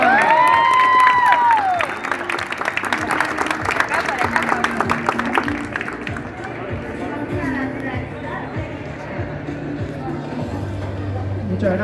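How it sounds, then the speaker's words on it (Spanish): Audience applauds and cheers loudly for a guest at the North Comic convention, dense clapping with whistles in the first six seconds before it thins into crowd chatter and murmur. "Así que un aplauso extra."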